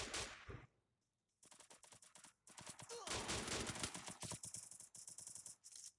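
Rapid bursts of gunfire in a Free Fire clash squad ranked match, sharp repeated shots in quick volleys with a short lull near the start, loud and close throughout.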